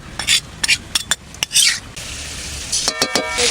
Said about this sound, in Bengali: আলুটা একটু ভাজা ভাজা হয়ে গেছে, এবারে লঙ্কা বাটা দিয়ে দেবো।